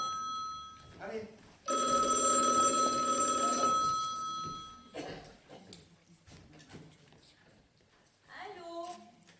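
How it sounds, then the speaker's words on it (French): A telephone bell rings loudly for about two seconds on stage during an amateur theatre play about a bank hold-up, with people talking before and after the ring. "Ah, téléphone, bon."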